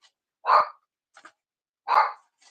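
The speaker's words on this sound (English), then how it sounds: "sorry about the dog." A dog barks twice, about a second and a half apart, with faint softer yips between, moderately close indoors with no one talking over it.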